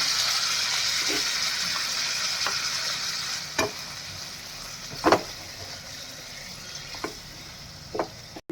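Fresh cashews sizzle and crackle with water in a hot pan, broken by a few sharp clinks and scrapes of stirring spaced a second or two apart.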